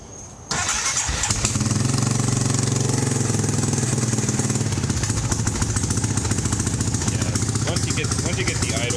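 A Honda Recon ATV engine catches after a short crank and settles into a loud, steady, rapid idle chatter that runs continuously at close range.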